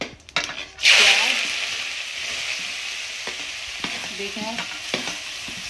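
Cumin seeds sizzling in hot oil in a pan, with a loud burst of frying as they hit the oil, then a steady crackle and occasional stirring, close up with a brief spoken word.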